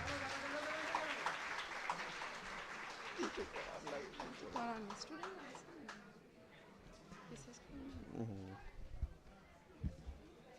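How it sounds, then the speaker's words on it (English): Scattered applause from an audience at a conference prize presentation, fairly quiet and distant, mixed with crowd chatter and voices talking over it. "A big round of applause, everybody."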